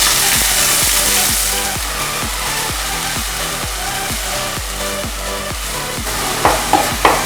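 Onion paste frying in smoking-hot mustard oil, a loud steady sizzle with rhythmic stirring scrapes throughout and a few sharp spluttering pops near the end.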